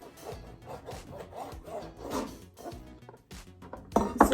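A knife slices venison into strips for jerky, giving soft repeated rubbing, sawing strokes against a cutting surface, close and fairly quiet with no talking.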